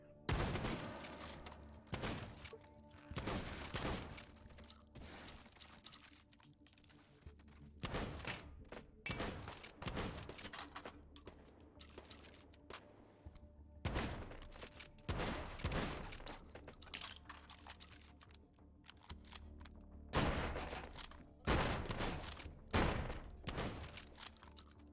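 Pump-action shotgun blasts from a video game ring out in irregular bursts, sharp loud reports separated by pauses and mechanical clunks, several shots clustering together across a long stretch.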